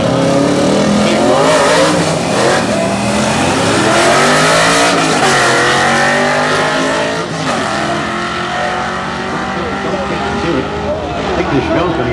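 Drag racing cars at Bradenton Motorsports Park, including a 1968 Chevy Chevelle with a 502 cubic inch engine, roar loudly and continuously at the strip, with tire noise and a voice talking over the din.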